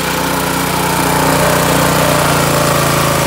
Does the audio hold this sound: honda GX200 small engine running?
yes